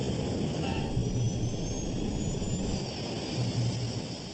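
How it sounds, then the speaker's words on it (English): Qantas Flight 32 airliner landing on the runway, a loud continuous jet engine roar with a broad rushing hiss, steady and close throughout. "The plane is gobbling up 80 meters of runway every second."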